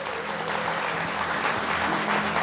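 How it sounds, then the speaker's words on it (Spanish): A church congregation applauds steadily for a few seconds during a sermon, a moderate, even patter of many hands heard from within the room. "le da un fuerte aplauso al Señor por eso"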